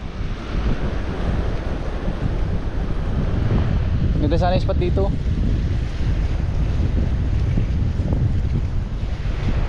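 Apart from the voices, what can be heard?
ocean waves crashing on shore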